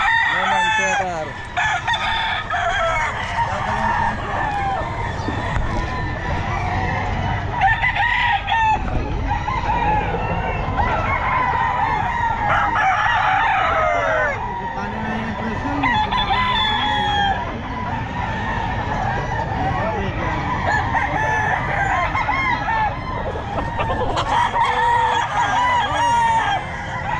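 Gamefowl roosters at a busy pet market crow repeatedly and cluck over steady crowd murmur, with several birds calling close by and overlapping throughout.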